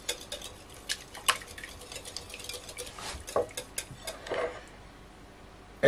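A spoon knocks and scrapes around a bowl while yogurt and butter are stirred together, the clinks coming in quick, uneven bursts at close range.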